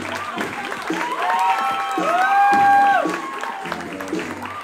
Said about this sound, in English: A big round of applause for our bridesmaid, Leanne Beauregard, escorted by our usher